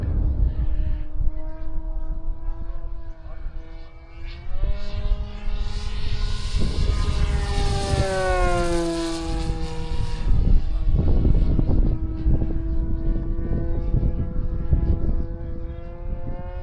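An H-King Yak-11 Steadfast 1450mm 6S electric RC model plane flies with flaps up, its motor and prop giving a continuous steady whine that bends and shifts pitch as it passes and changes throttle, loud throughout with no talk.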